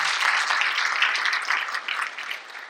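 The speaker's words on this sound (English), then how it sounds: "give all of our colleagues and community members a big round of applause" An audience at a school district's annual state-of-the-district address gives a round of applause, steady close clapping that slowly thins out toward the end.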